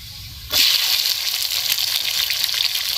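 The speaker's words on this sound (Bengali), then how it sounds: "তিনটে টমেটো নিয়েছি কেটে নিয়েছি এবার দিয়ে দেব" Chopped tomatoes drop into hot oil with fried onion, chilli and cumin for a thin fish curry, bursting into a sudden loud sizzle that then settles into a steady, hissing fry.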